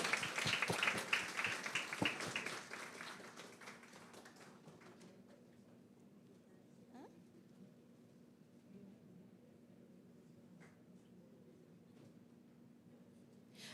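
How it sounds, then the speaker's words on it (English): A graduation ceremony audience applauds with dense clapping for the first few seconds, then the applause thins to scattered claps and quiet room noise. "Let's keep the applause coming as they make their way."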